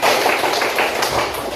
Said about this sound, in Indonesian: tepuk tangan, tepuk 3, tangan